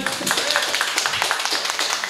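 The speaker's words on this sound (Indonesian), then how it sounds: "Tepuk tangan buat kalian semua." Scattered clapping from a small community gathering applauding its participants, including the final contestant, with a brief voice or two mixed in under the dense, steady claps.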